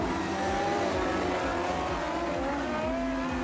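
Production sedan race cars roar around Maryborough Speedway during a series final, engines revving steadily in a loud, continuous drone with passing pulses as the field runs side by side.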